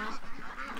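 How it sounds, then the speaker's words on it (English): Ducks being fed give a quick run of nasal honking quacks, near and moderately loud, over a brief moment. "Okay, ducks, come on."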